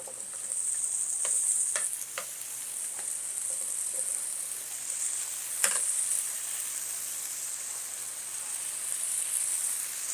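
Cut potatoes sizzle steadily on a hot griddle set around 325 degrees, a bright continuous hiss punctuated by a few sharp ticks and clicks of a spatula, close and moderately loud, with no talking.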